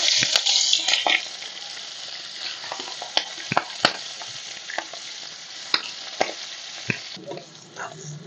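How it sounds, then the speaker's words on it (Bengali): Prawns, salted and coated with turmeric, fry in mustard oil in a pan, giving a steady close sizzle broken by sharp stirring clicks and scrapes. "মাছগুলো প্রথমে আমি হালকা করে একটু ভেজে নেব"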